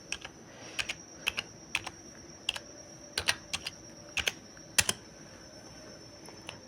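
Rapid keystrokes on a computer keyboard as a search term is entered, coming in short clustered bursts of sharp clicks with brief pauses between them, close and clear with no talking.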